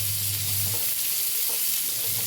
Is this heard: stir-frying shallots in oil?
yes